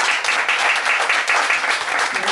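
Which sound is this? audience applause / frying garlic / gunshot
audience applause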